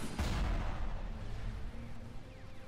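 Units opening fire in Star Wars: Empire at War, a burst of booming cannon-like shots followed by a steady, rumbling stream of distant fire.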